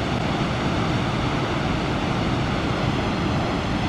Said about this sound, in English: Love the sound of the waterfall.